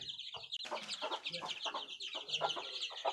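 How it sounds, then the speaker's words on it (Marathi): Domestic backyard hens clucking close by in a series of short, rapid, repeated calls, one sharp knock near the start, no talking. "ही पूर्ण घरची कोंबडी आहेत बघा"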